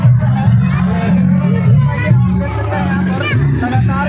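A large crowd gathers at a Kalash Yatra procession, a steady hubbub of many overlapping voices and chatter with occasional raised shouts, close and loud throughout.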